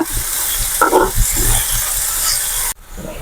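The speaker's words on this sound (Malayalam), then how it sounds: "നല്ലതുപോലെ ഒന്ന് ഇറക്കി എടുക്കാം ഒരു ബ്രൗൺ കളർ ആവുന്നത് വരെ നമുക്ക് ഇളക്കി കൊടുക്കാം" Cauliflower sizzles steadily in a hot pan while it is stirred until browned, with a few soft scrapes under the frying hiss. The sizzle cuts off sharply near the end.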